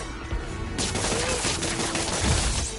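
Rapid gunfire bursts in the Spider-Man video game erupt after a brief quiet start and rattle on at close range, with game sound effects and voices mixed around them.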